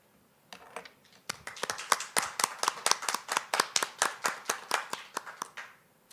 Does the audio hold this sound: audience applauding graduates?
yes